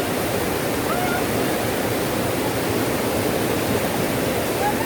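Cold river water flowing steadily where a family plays, a dense, even rushing hiss that stays constant and close throughout without any clear voices.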